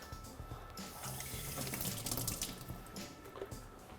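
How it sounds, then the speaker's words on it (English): Water runs steadily from a kitchen tap while tomatoes are washed under it, a continuous close splashing rush with no talk. "Make sure that we wash these and get about 3 or 4 tomatoes."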